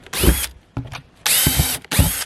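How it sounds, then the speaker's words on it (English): A power drill boring holes into a barrel for a primitive deadfall trap, heard as three loud, close bursts of high whining drilling separated by short pauses, with no talking. "This drill right here, drill a few holes."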